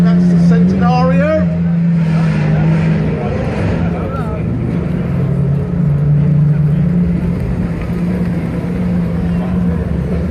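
A Lamborghini Centenario supercar drives past at the Goodwood Festival of Speed, a steady deep engine hum rising and fading with crowd noise, while a commentator talks over it throughout.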